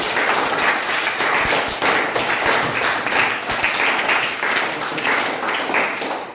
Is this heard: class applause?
yes